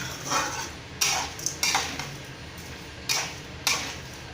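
A spoon stirring and knocking against a cooking pot of Tamil-style tomato curry (thakkali kulambu), with several sharp metallic clinks at irregular intervals over a soft background hiss and no talk.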